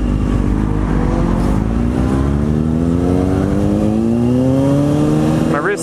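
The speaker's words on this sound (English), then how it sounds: "there's a Harley behind me." A Harley-Davidson motorcycle rumbles loudly close behind in traffic, its engine tone rising steadily as it accelerates, drowning out everything else.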